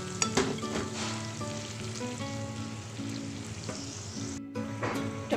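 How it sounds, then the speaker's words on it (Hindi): Onion-tomato masala for rajma fries in a pan, a steady soft sizzle broken by scraping stirs and clinks of the spoon, close and quiet with a brief gap near the end. "बहुत अच्छे से इसको भूनना है वरना इसमें टमाटर का कच्चापन रह जाता है"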